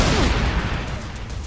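Gunfire in the video game Dead Rising 3, with a dense, loud volley of overlapping shots up front that thins and fades over a second and a half.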